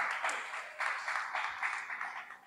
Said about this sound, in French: On peut applaudir pour toi d'abord.